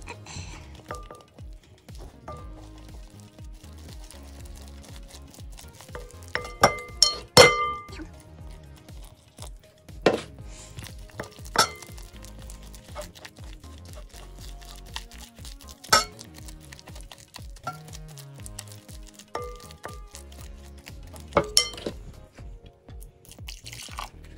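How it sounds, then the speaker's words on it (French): Ayurvedic powder stirred into hot kettle water in a cup, a spoon clinking and clanging against the sides in scattered ringing taps with quieter scraping between, close and alone. "On va mélanger."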